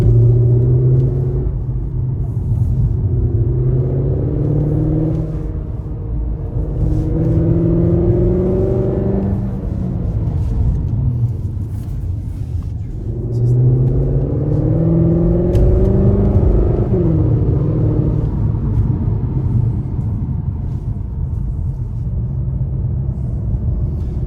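A Cupra Leon e-Hybrid with a 1.4-litre petrol engine and electric boost revs loudly in repeated rising sweeps, each climb falling back before the next, a throaty rumble filling the cabin.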